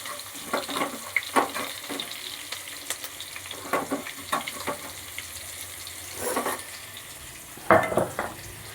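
Chopped onions frying in a pan over green chilli, a soft sizzle broken by repeated scraping stirs and a few louder bursts.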